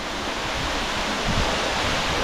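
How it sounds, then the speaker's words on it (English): A waterfall drops into Smoo Cave, a big sea cave on the Scottish coast, giving a constant broadband roar of falling water, close and loud, mixed with some wind buffeting. "that's the waterfall that goes into Smooth Cave"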